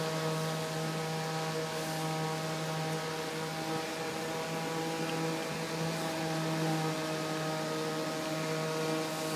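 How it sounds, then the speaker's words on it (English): A Delta EFB1212HH high-speed computer fan runs continuously, producing a loud, steady whirring drone with strong tonal hum and rushing air, unchanging throughout. "Now we shall turn on the fan for the first time. This fan moves quite a bit of air."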